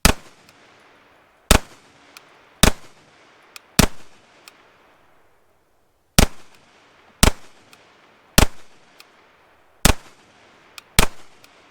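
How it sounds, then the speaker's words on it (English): A Cobray M-11/9 fires loud, sharp single shots at an outdoor range in two uneven groups of about four. Each crack is followed by a brief decaying echo. "We're going to do some just normal shooting, see how accurate we can get."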